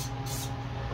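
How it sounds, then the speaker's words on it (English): Carburetor cleaner sprayed from an aerosol can onto a clean motorcycle carburetor, a loud steady hiss close up that runs for the whole second. "I'm gonna still spray it with some carb cleaner here"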